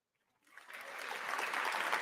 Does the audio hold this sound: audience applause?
yes